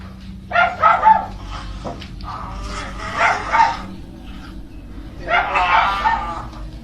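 Several dogs bark and yip in bursts, loud and fairly close, with short pauses between volleys and a low steady background hum.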